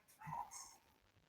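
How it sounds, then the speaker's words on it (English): Dog gives a single short, faint bark in the distance, picked up during a podcast call. "is that your dog or what?"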